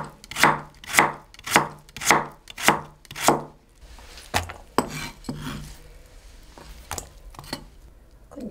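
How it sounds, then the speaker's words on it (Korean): A knife chops radish into thin slices on a cutting board for Tongyeong cod-gill jeotgal, with five steady, crisp knocks followed by quieter, irregular cuts and board scrapes. "대구 장기젓은 무가 들어가야 맛있어요. 근데 이 굵게 썰이도 맛이 없고"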